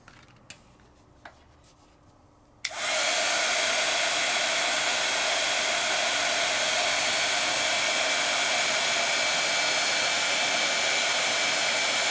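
A heat tool sets embossing powder in a quiet craft room: a few light taps and clicks, then the tool switches on abruptly and blows a loud, steady whooshing hum that continues to the end.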